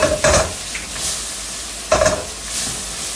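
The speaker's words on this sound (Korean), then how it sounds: "이렇게 해서 한 번 더 기름으로 볶아야 돼요" Baby octopus stir-frying in oil in a hot pan over high heat: a steady loud sizzle with two sharp bursts of stirring and scraping, with no talking.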